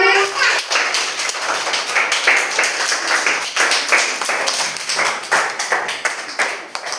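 Group of children clapping their hands in a steady, busy patter of many overlapping claps, fairly close and lively, with faint kids' voices mixed in.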